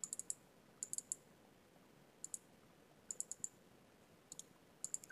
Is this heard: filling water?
no